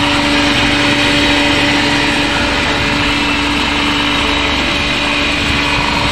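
Steady, loud machine drone with a constant hum from a grinder turning soap nut shells into powder, unbroken and dense throughout with no voices.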